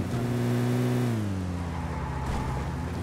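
A car driven in the video game PUBG on the Livik map revs up close, its engine note climbing and then settling into a lower steady drone as it drives along, with no talk over it.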